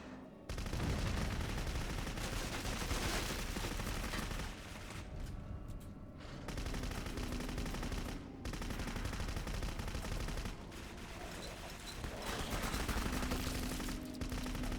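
Sustained heavy gunfire from Clive Barker's Jericho video game roars almost nonstop, with dense automatic volleys broken by a few brief lulls.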